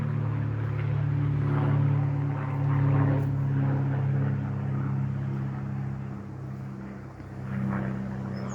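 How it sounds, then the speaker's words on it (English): Airplane passing over a forest walk, a low steady drone with a humming tonal core that swells and fades softly, fairly faint and distant, with no talking over it. "Let me just wait for this aeroplane to go past."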